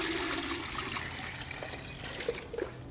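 Water poured from a pitcher into a gravity filter container, a steady broadband splashing and trickling stream heard close and alone, with a few brighter drips near the end.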